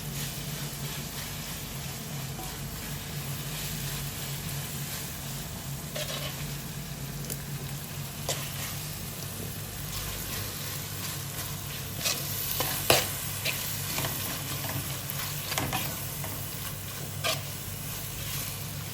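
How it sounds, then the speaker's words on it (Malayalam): Masala for Angamaly-style mango curry fries in a pan with a steady sizzle while a spoon stirs and scrapes, making a few sharper clinks now and then. "നമ്മളൊന്ന് മിക്സ് ചെയ്യാൻ പോകണിനി"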